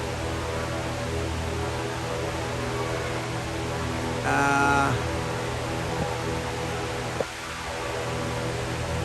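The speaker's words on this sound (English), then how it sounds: "The circulation fans." Continuous low hum of air-circulation fans running steadily among orchids in San Antonio, with a brief brighter rattle midway and a faint thump near the end; no voices.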